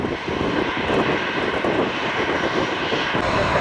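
A fixed-wing airliner at Tampa airport rolls steadily for takeoff, its loud jet engine roar sustained and broadband throughout without pause, heard up close with no talking.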